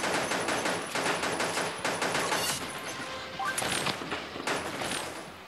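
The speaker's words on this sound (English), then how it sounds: "That guy has a flipping machine gun." Rapid machine gun fire from the video game Pixel Gun 3D rattles almost continuously in fast bursts, loud and close, with sharp metallic effects layered over the shooting.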